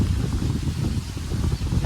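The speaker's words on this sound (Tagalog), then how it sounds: "lakas ng hangin," Strong wind blows outdoors around a clothesline, a continuous loud rushing buffet with gusty swells hitting the microphone, no voices.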